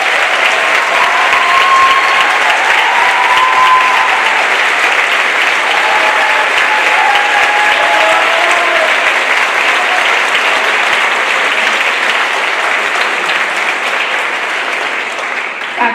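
A school assembly audience applauds its faculty, a full, sustained round of clapping from a large crowd that stays loud and even before tapering slightly at the end.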